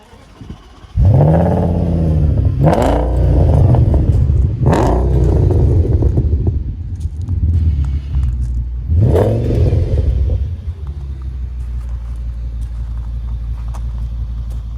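An Audi S8's V10 engine revs hard several times, each loud roaring blip climbing and falling, then settles into a deep idling rumble.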